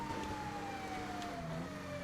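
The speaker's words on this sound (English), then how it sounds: "we have the lights and the sirens" A police car siren from GTA Online, on a Vermont State Police Crown Victoria, wails steadily in a slow, falling tone, loud and close over a low engine hum, with no talking.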